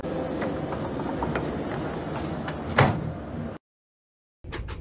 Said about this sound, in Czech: Ukončete prosím výstup a nástup, dveře se zavírají.